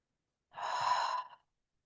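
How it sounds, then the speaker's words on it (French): A single long, even exhale during a Pilates posture exercise, airy and close, lasting under a second in otherwise silent surroundings. "L'inspire est aussi long que l'expire."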